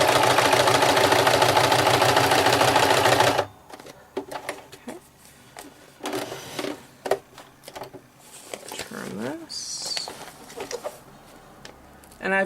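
Sewing machine with a leather needle, straight-stitching a faux embossed-leather paper journal cover, whirs loudly and steadily up close for a few seconds, then stops, leaving quiet handling clicks and rustles.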